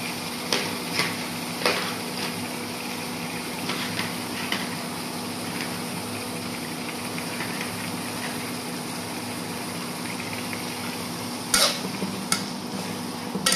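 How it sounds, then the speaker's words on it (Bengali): Dried shrimp being sautéed with spices in a pan, giving a steady low sizzle with scattered scraping stir strokes and a few sharper clinks of utensil against the pan, close by with no talking. "এগুলা ভালো করে আমি চিংড়ি মাছের শুটকিটা একটু কষাই নিব।"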